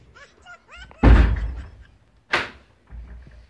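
A door is shut with a heavy thunk in an indoor setting, with a second loud bang following about a second later, amid quiet background voices.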